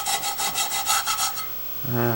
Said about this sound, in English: And we take a wore out Scotch-Brite pad.